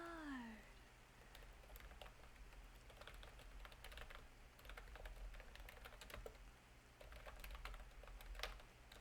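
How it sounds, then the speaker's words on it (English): Soft, rapid typing on a computer keyboard for ASMR, with irregular clicks in close, quiet detail over a faint steady background hum, and a brief squeaky sound at the start. "I'll do some keyboard typing."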